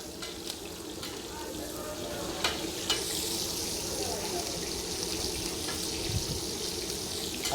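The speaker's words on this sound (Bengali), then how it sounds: "আমি দেখি উনি কীভাবে ফিশ ফ্রাই করে আর কি" Hilsa fish from the Padma frying in a pan at Mawa ghat, giving a steady broadband hiss with occasional sharp clicks and pops, while faint voices murmur in the background.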